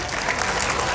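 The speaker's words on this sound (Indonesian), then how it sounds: "Sekali lagi tepuk tangan." Audience applause at a ceremony confirming Quran memorizers in Lamongan, a dense, steady wash of many hands clapping, loud and continuous throughout.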